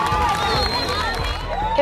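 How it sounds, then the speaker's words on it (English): Friends and family cheer and shout to welcome a girl home, a close, lively crowd of raised voices with bursts of excited calls and chatter throughout. "she's welcomed by a crowd of cheering friends and family"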